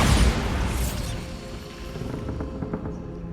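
A Bombarda spell blast in the video game Hogwarts Legacy: a heavy booming burst at the start that fades into a rumbling, crackling tail.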